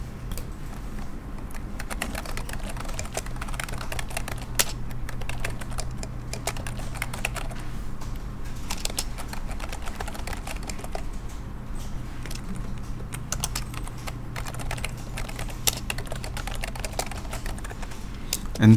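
Steady keyboard typing on a computer while entering text in AutoCAD, fast clicky keystrokes running continuously and close up for the whole stretch, with no voices.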